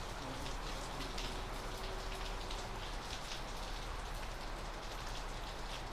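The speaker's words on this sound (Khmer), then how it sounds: "It's raining very hard it's pouring right now it's also gusty windy" Heavy, gusty rain pours down in Northern California, a dense, unbroken roar of countless drops striking surfaces, steady and loud from start to finish.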